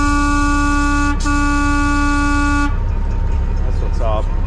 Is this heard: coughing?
no